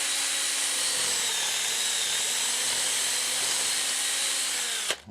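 A power drill bores out the blue plug lodged inside a broken golf shaft, a steady close whine running continuously for about five seconds before stopping abruptly at the end.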